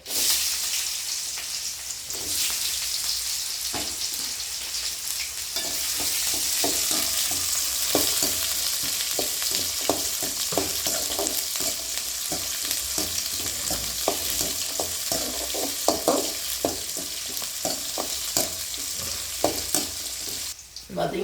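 Onions, chillies and chana dal sauté in a hot pan, a steady bright sizzle broken by repeated scraping stirs of a spoon, close and continuous without talk.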